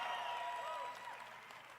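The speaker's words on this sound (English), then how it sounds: "Give yourselves a big round of applause." Audience applause at a Holton Buggs Vision 2020 event, a steady wash of clapping that fades slightly toward the end, with no talking over it.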